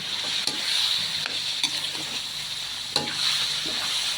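Monitor lizard adobo sizzling steadily in a pan while being stirred, a constant frying hiss with occasional scrapes and knocks of the utensil, close and fairly loud, no voices.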